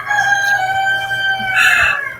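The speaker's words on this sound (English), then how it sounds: "I love that rooster." A rooster crows nearby in one long, loud, drawn-out call that rises and then trails off, with no talking over it.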